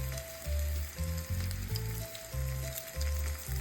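Bread fries in melting butter in a skillet with a steady, quiet sizzle, partly under a low tonal melody.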